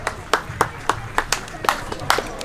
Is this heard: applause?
yes